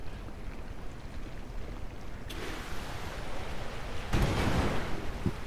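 An irrigation hose in the game Lightyear Frontier sprays water in a broad, hissing rush over a soft wind-like bed, with a sudden onset and a stronger, louder burst shortly after.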